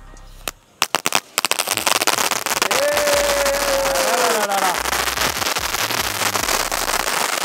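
A rapid string of sharp Sivakasi firecracker bangs, then a dense, continuous crackling barrage with a whistling tone rising over it, loud and close.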